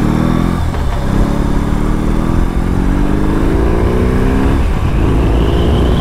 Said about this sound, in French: le coup de gaz que je mets, la moto qui vacille à chaque fois